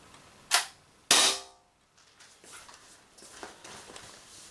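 Two sharp, loud pneumatic shots from a Grimburg FAR / Umarex HDR68 air gun in its 16 joule version, close and about half a second apart, followed by quieter handling rustle.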